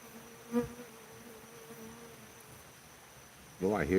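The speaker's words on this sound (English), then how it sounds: "Oh, I hear the bees." Bees buzz faintly outdoors, a thin insect drone with a few louder passes, and a voice speaks briefly near the end.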